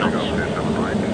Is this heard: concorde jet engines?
yes